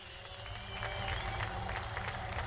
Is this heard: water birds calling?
no